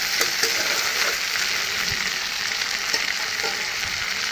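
Aloo dum, a potato curry, sizzles steadily as it sautés in a pan, with a few soft stirring scrapes over the continuous frying hiss.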